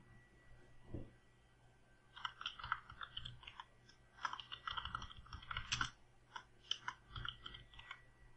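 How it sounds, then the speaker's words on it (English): Username keystrokes tap on a computer keyboard during a Red Hat Linux 6 installation, with a single press, then a quick, irregular burst of soft close clicks. "type in the username"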